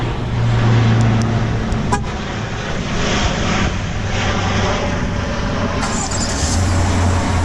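A 2021 Chevy Silverado Z71 Trail Boss truck engine starts up and settles into a steady, loud idle rumble close by, with a brief sharp transient early on and no talking.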